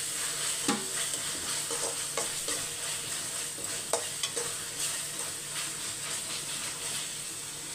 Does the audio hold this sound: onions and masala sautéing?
yes